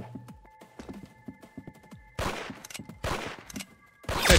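Gunfire in the Roblox Arsenal shooter game, a run of sharp shots: scattered light cracks at first, then several loud, dense bursts in quick succession, close and dominant with no talk.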